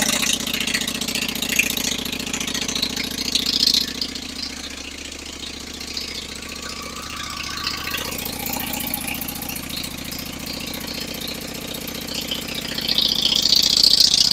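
A motorcycle engine idles steadily to heat the exhaust, a continuous mid-pitched rumble with a faint rattling knock, close and unchanging over the whole stretch.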